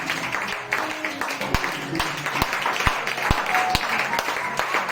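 A church congregation claps along in a steady rhythm, sharp claps landing roughly every half second, mixed with voices in the room.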